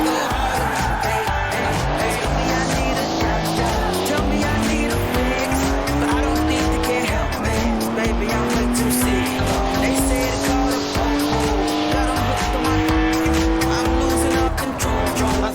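Tires squeal continuously as a car drifts sideways in Forza Horizon 4, a 3-litre twin-turbo straight-six with 335 horsepower roaring loudly with rising engine pitch under the shriek.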